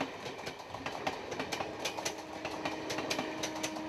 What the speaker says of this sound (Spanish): Aproximadamente 30 trenes pasan a diario por aquí.